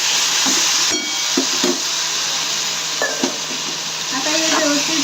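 Spicy eggplant curry stir-frying in a pan, a continuous loud sizzle with scraping spatula strokes and a few clinks, close and steady, with brief voice traces near the end.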